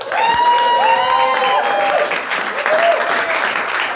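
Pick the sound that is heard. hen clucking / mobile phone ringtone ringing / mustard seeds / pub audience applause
pub audience applause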